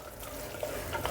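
Spices sizzle and crackle softly in hot oil in a pan while making tomato bath rice, a faint steady frying hiss with a couple of small pops.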